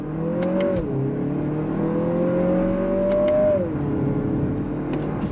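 A 2023 Lexus NX 350 F Sport's engine pulls hard on throttle with paddle shifts, its steady rising drone dropping in pitch at each upshift around one and three-and-a-half seconds, then climbing again, loud and close with no talking.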